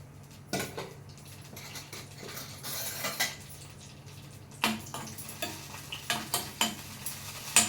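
Green chillies sizzle in hot oil in a pan for peanut chutney, with a soft frying hiss underneath repeated scraping and stirring clinks from a utensil against the pan.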